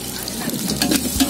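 Ginger garlic paste sautéing with onions in hot oil for a country chicken curry, a short burst of crackling sizzle with stirring movement, close and bright, no speech.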